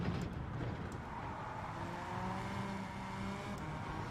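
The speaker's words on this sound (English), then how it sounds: "you can hear the competitors' engine noise" Competitors' race car engines in Gran Turismo 7 droning steadily nearby, a continuous engine hum with faint tyre noise and no pauses.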